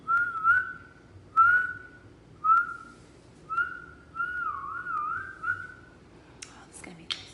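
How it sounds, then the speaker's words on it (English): A series of short, rising whistled notes with pauses between them, then a longer wavering whistle, fairly close and clear, ending with a few brief clicks. "Can I whistle? Yes, I can."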